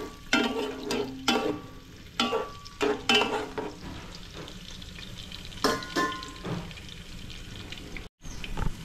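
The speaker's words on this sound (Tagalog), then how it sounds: "Ito, naglagay na ako ng mantika. Naglagay na ako ng sibuyas." Onions sizzle in hot cooking oil, with a steady fry bed and repeated bursts of stirring and scraping across the pan. A brief pause in the sizzle comes near the end, and no one speaks.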